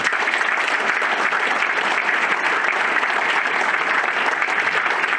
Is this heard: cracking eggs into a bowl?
no